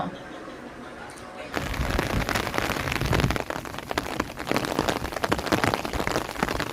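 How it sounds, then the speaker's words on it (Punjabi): Steady rainfall pours in Samana after a quiet start, a dense hiss of drops striking surfaces with scattered louder patters; a voice speaks over the downpour. "ਜਿਹੜੀ ਬਰਸਾਤ ਹੋ ਰਹੀ ਹੈ ਕੱਲ ਵੀ ਹੋਈ ਅੱਜ ਦੂਜੇ ਦਿਨ ਬਰਸਾਤ ਸ਼ੁਰੂ ਹੋਈ ਹੈ"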